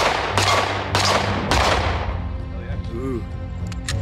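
Three rapid, loud pistol shots come from a Glock-compatible Aeonic Arms Alpha Comp stainless steel frame at an outdoor range. Each shot cracks sharply and echoes briefly, and then people start talking.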